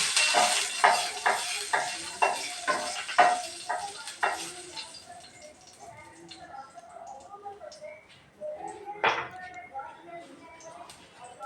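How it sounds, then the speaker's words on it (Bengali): Cumin seeds tempering in hot oil are stirred with a metal spatula, repeated sharp scraping strokes against the pan over a soft sizzle, then quieter intermittent stirring. "ফোড়নটাকে ভালো করে নেড়ে নেব খুন্তির সাহায্যে"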